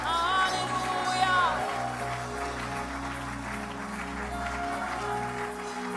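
A church congregation applauding and acclaiming the Lord, a broad wash of clapping and crowd voices under sustained music, fairly loud and continuous.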